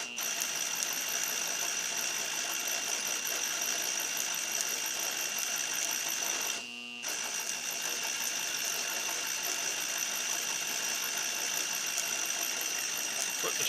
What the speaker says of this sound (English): This DC motor, there's not a lot of oomph there when you get down to the lower ranges.